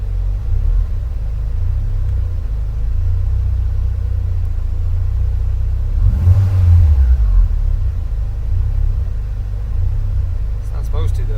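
A 2004 Subaru STi with an EFR7670 turbo rumbles at a loud, close idle, then surges erratically in one uneven rev burst midway before settling back to a steady low drone.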